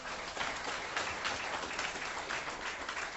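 Audience applause at a health symposium: a steady, even wash of many hands clapping at moderate distance, without voices.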